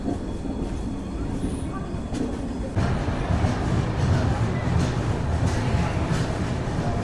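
Prasanthi Nilayam Express, a train with new LHB coaches, rolling into Dharmavaram Junction on a single line: a steady low rumble that grows louder partway through and continues as a close, continuous drone without talk.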